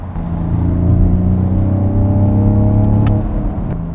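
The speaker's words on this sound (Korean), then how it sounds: "지금 스포츠 모드에 놓고 운전을 하고 있는데, 디젤 엔진이기 때문에" A BMW X4 M40d diesel engine drones steadily at close range in sport mode, its harmonic hum holding and slightly rising as the car accelerates, with no voices.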